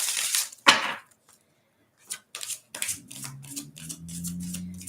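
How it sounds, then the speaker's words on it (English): Tarot cards shuffled by hand, with a sharp snap near the start and then a quick run of short papery flicks and taps, close, under a faint low hum and no talking. "It always looks like I'm shuffling so fast on camera, but I'm really not."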